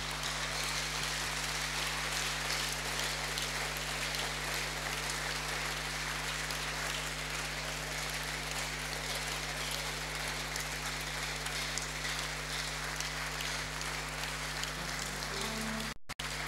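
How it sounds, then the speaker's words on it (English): An audience at an inaugural lecture applauds in a dense, sustained wash of clapping that runs steadily for about sixteen seconds under a constant low hum, then cuts off abruptly. "round of applause again."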